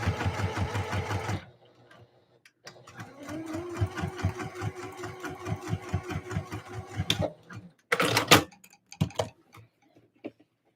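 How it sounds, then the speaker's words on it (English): Sewing machine top stitching Christmas dresses with a longer stitch length: a loud run of stitching, a pause, then a long steady stretch of distinct, evenly spaced needle beats, ending with a few short bursts and clicks. "Longer stitch length, I'm just top stitching."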